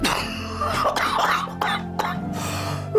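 A sick person with a chronic cough, in an Indonesian village drama, gives a few harsh, close coughs and throat-clearing bursts, separated by short pauses.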